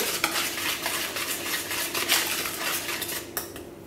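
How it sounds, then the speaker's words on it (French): A utensil stirs pancake batter ingredients in a bowl, scraping and clinking against the sides in quick, irregular strokes, close and fairly loud, ending with a final sharp knock. "Et juste on va simplement remuer."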